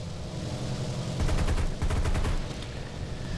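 An A-20G-30 attack aircraft strafes with its guns in a combat flight game, rapid bursts of heavy gunfire rattling over a steady engine drone, with a loud volley in the middle before the firing eases off.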